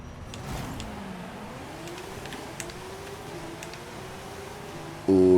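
Honda NSX-R engine at full throttle on the festival drag strip in Forza Horizon 5, a steady rising engine tone building through gears over several seconds, loud and continuous, with a sharp jump in level at the end.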